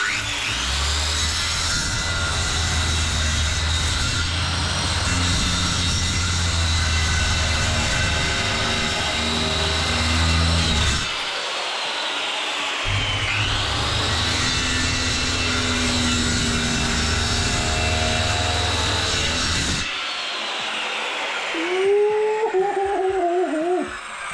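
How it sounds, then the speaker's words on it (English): A power saw cuts through wooden wall studs during framing work for a niche, a loud, steady high-pitched whine running for long stretches with brief pauses between cuts and no talking. "what we're going to do is cut these couple of studs for the niche."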